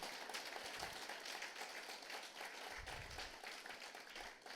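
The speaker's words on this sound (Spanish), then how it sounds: "Dale un aplauso de alabanza al Rey de Gloria" Praise applause from a church congregation during a sermon, a steady wash of many hands clapping at a faint, distant level throughout with no talk over it.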